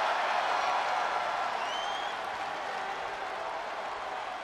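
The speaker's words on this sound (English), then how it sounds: "the sound of this crowd is deafening and he's asking for more" A wrestling arena crowd roars in a dense, steady wall of cheering noise at a full match, loud and unbroken, with no distinct voices standing out.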